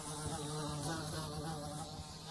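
A bee buzzes inside the video game Escape the Backrooms, a steady, fairly faint insect drone that continues throughout with no speech over it.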